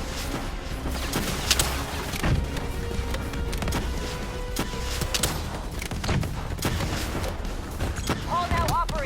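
Sustained gunfire from Call of Duty Black Ops 3 during a fight against a Manticore enemy, dense bursts of shots and booms with explosions throughout, under in-game radio voices talking.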